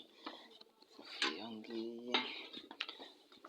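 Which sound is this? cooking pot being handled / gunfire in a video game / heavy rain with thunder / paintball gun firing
cooking pot being handled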